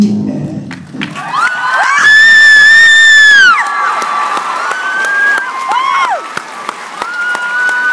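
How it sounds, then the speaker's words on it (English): Live audience at a fan convention script reading cheers and whoops loudly after the performance, with screams, shouts and scattered clapping rising to a sustained peak then tapering into lighter cheering. "Let's have a big round of applause for our voice performers, ladies and gentlemen."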